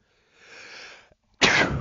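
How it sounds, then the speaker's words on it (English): A single sneeze, preceded by a soft indrawn breath and a brief pause, then a sudden sharp, loud burst close to the microphone. "Sorry, I had to sneeze."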